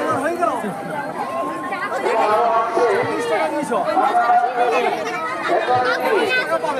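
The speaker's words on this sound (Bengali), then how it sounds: "ভক্তদের ভিড় হয়েছে" A crowd of devotees at a village temple festival for Mahakaleshwar chatters in a thick, continuous babble of many overlapping voices, close and fairly loud.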